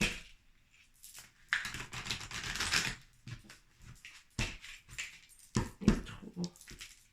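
A deck of tarot cards is cut by hand three times, giving soft rustling and slapping bursts of card against card, close and intermittent, with quiet pauses between them.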